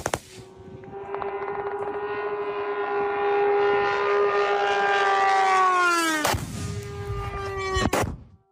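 A Shahed drone flies over the Cherkasy region at night during a massive attack, its loud, steady high engine whine swelling as it passes, then cut off by sharp bursts of air defense fire near the end.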